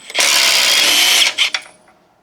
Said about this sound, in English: Then spin off this one with a ratchet or an impact.